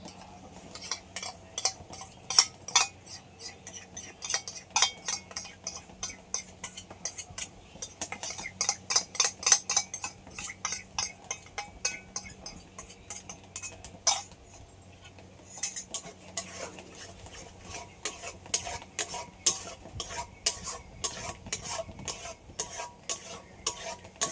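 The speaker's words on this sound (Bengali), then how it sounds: "এবার কড়াইয়ের মধ্যে আমের মিশ্রণটা দিয়ে দেবো" Mango jelly mixture being stirred in a wok, giving a steady run of rhythmic scraping and clinking strokes from a utensil against the pan, fairly close and with no talking.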